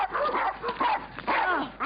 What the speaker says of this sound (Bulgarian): По този начин не може да се спре боя между кучетата.